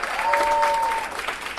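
Live audience at a show breaks into loud, dense clapping, with a bright whistle rising above the crowd for a moment, continuous throughout.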